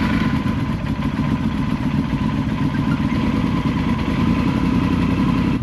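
A motorcycle engine idles steadily above 2500 metres altitude in Ecuador, a close, continuous, even mechanical rumble with a light clatter that holds at the same level throughout, with no voices.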